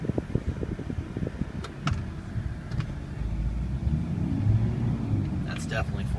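A 2004 Chevrolet Silverado diesel 4x4 creeps along in four-low, its low engine rumble slowly swelling beneath someone talking nearby.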